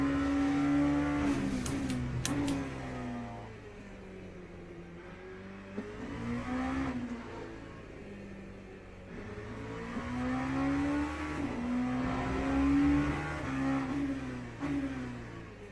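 LMP2 prototype race car engine in the sim racing game Le Mans Ultimate, droning steadily with repeated rising and falling revs through gear changes, loud and continuous throughout.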